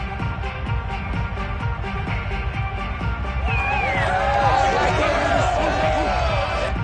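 A stadium crowd in a Madden football video game swells into loud cheering and whistling, building over steady game ambience and commentary voices.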